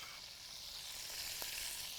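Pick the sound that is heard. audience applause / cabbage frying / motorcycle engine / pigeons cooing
cabbage frying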